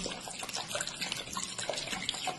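Water poured steadily over an OPPO A5 Pro phone, a soft continuous splashing trickle close by, fairly quiet and without speech.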